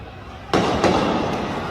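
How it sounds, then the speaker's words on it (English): A sharp, loud bang cracks out once, followed by a second fainter report, over a background of noisy outdoor commotion during street looting in Chicago. "Gunshot."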